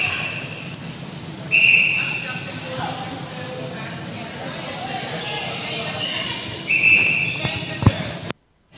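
Umpire's whistle at an international netball match, two sharp high blasts several seconds apart, heard over steady crowd noise and a commentator's talk, with a ball bouncing on the court.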